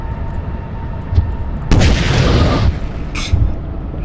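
A missile launch and explosion in a modded Lethal Company game: a faint thump, then a loud whooshing blast lasting about a second, followed by a smaller pop.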